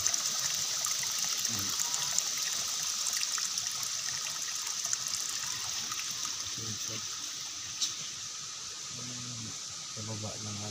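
Spring water flows and trickles steadily into a tilapia pond outdoors, a constant close hiss of running water throughout, with a person talking briefly over it.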